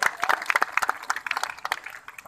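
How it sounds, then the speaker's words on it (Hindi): A crowd claps for a young runner who took first place in a race, a brisk burst of uneven, fairly close applause that thins and fades toward the end. "इस युवा धावक के लिए एक बार जोरदार ताली"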